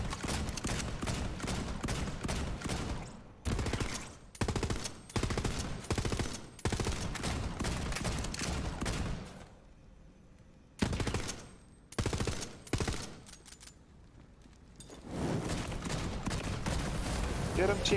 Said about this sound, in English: I don't know what you are shooting me with,